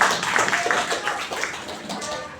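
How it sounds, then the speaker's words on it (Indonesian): An audience at a school class committee meeting claps for a pastor: a dense, brief patter of applause blending with voices, moderately loud and close throughout. "mari kita berikan tepuk tangan untuk Bapak Pastor"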